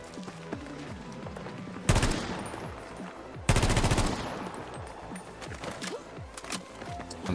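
A rifle fitted with two attachments fires in a shooter game: two loud sustained automatic bursts stand out against a busy background of other game sounds and scattered distant shots.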